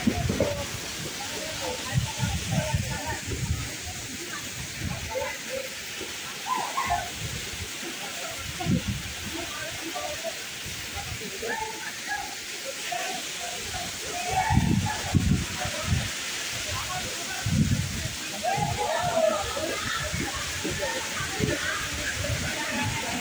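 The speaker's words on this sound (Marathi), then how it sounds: "म्हणजे हे बघा धबधबा मस्त आहे" A waterfall churns and splashes close by in the muddy monsoon season, a steady rushing wash of water with uneven surges, while a person talks over it.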